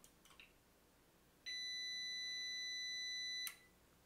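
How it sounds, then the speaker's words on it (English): A Smart Power Systems 240W UPS gives a single high, steady electronic tone at power-on, holding for about two seconds before cutting off, clear against a quiet room after a few small clicks. "You should hear a little beep here in a second and the inverter should cut on."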